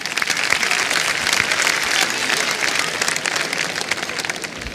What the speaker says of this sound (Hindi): तालियां बज जानी चाहिए इसके लिए